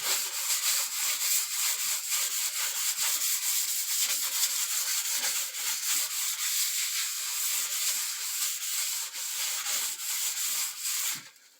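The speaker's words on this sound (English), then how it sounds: "just trying to get any of the last little putty excess off of there. And it just kind of rebuffs it out." Steady rubbing across a wooden bar top buffs away leftover putty, a continuous dry, hissy scuffing with rhythmic strokes, close and moderately loud, fading out at the end.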